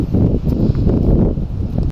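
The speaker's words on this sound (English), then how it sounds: "It's very, very windy." Strong wind buffets the microphone steadily aboard a narrowboat on the River Calder, a low roaring rumble that barely lets up, close and loud throughout.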